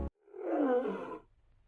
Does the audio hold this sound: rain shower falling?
no